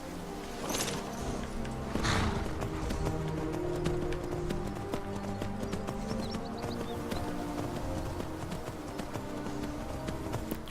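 Horse hooves clip-clop in the Skyrim video game, a steady run of quick hoof strikes with a couple of louder impacts early on, heard alone at moderate volume.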